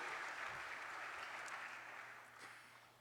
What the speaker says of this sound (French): applaudir pour ce moment historique que nous sommes en train de vivre?